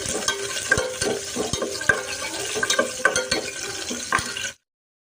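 Green chillies and curry leaves frying in a pan, stirred steadily with a spoon, giving a continuous close sizzle broken by regular scraping knocks until the sound cuts off abruptly.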